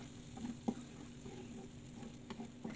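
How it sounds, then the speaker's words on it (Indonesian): Spice paste for rawon, East Java's black beef soup, stir-fried in a pan until fragrant: a soft, steady low sizzle with a few light stirring scrapes and taps, quiet and without talk. "Kemudian kita tumis sampai harum."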